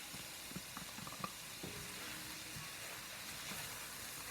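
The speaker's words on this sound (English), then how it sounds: "Give it a quick stir." A pot of sofrito for jambalaya sizzles steadily while a spoon stirs through it, with soft scraping and clinking accents early on over a constant bed of frying hiss.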